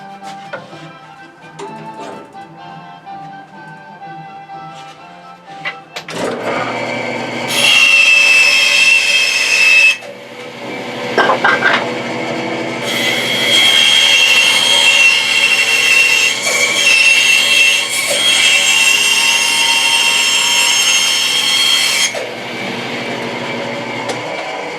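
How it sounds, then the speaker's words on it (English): A bandsaw hums up and then cuts curved pieces for a bait box, a loud, harsh grinding whine that runs in long stretches with a few short breaks before the motor settles back to a hum. "Then it's back to the bandsaw."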